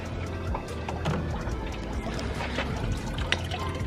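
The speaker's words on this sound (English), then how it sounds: "we're gonna let it all pour out." Coolant pouring steadily out of a Mercedes C43 AMG during a thermostat replacement and coolant flush, a continuous splashing trickle with a low rumble behind it, close and fairly loud.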